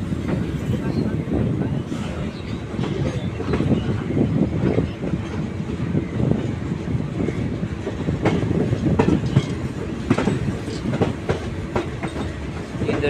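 Puri–Shalimar Garib Rath train with ICF coaches rolling into Kharagpur, a steady rumble of wheels with rhythmic clickety-clack over rail joints, heard close from on board, continuous and fairly loud throughout.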